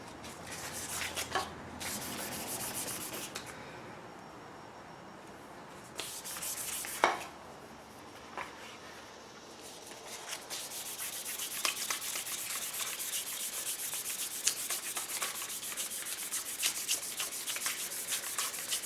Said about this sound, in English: Every grit you use, you take off more wood, and this will be good enough for an axe handle